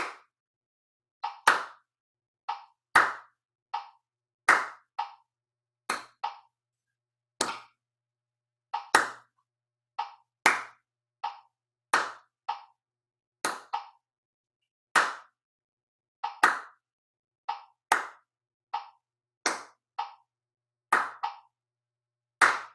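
Hand claps and taps trading off in a steady repeating polyrhythm, crisp percussive hits grouped in short clusters, close and clear with no voices.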